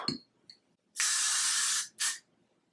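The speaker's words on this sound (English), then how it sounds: "use this sticky spray" Sticky glitter spray goes onto a beard as a long, close, hissing blast, then a short second spritz, with quiet moments on either side.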